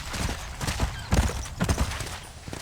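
Horse hooves clip-clop in Red Dead Redemption 2, a quick run of close, uneven thuds over a couple of seconds with no talk.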